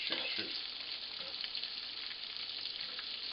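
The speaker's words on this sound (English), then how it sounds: "We're probably just going to flip them over a little bit." Chicken pieces frying in a pan make a constant crackling sizzle, with a few brief scraping and clattering bursts at the start as they are flipped, all close and fairly quiet.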